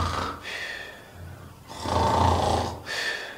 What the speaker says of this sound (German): Ich schnarche.